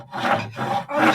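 A hand saw cuts wood in a home workshop behind a house, three steady back-and-forth rasping strokes, close and loud, heard alone as a woodworking effect in a radio drama.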